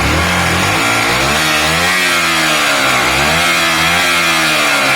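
A Honda Varadero 125 motorcycle engine revs loudly up and down, its pitch rising and falling in a couple of swells over a steady rumble, close by.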